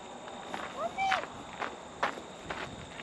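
Footsteps of hikers walking along the Wind Canyon Trail, a steady, moderately close tread of soft crunching steps roughly twice a second, with voices talking over them.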